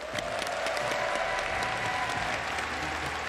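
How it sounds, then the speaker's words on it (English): Sustained applause from the audience at the Pokémon World Championships finals, a dense, steady roar of clapping with some crowd noise, loud and even throughout with a voice briefly heard over it. "Let's give them one round of applause."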